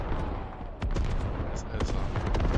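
Artillery barrage in the video game Squad, a dense rumble of gunfire and booming impacts with sharp cracks, loud and continuous, while a voice talks over it.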